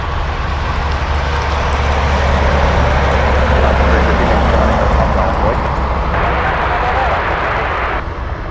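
A Boeing 747 Dreamlifter at Anchorage airport gives off a loud, steady jet engine roar that fills the whole stretch with a slight swell, while radio talk plays faintly alongside.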